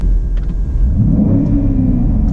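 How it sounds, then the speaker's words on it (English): The V8 engine of a 2020 BMW X7 M50i SUV, in park, rumbles loudly up close, its low growl swelling as the revs rise and hold. "Let's put it in park and let me rev it a couple of times"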